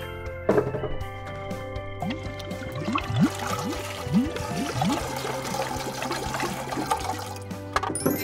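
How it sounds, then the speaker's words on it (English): Water pours and rushes into a tank, a continuous loud gushing fill with bubbling and rising trickles throughout, close by. "Good thing I have a bunch of water. Let's fill it up."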